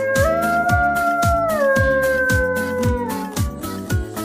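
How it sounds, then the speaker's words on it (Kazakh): A wolf gives a long, sustained howl that slowly slides downward in pitch, loud and close, over a steady background of repeated rhythmic thumps. "қасқыр"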